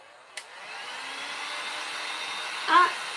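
A hair dryer blows steadily to dry a craft transfer, a smooth continuous whoosh at moderate level with a brief click near the start and a small chirp near the end.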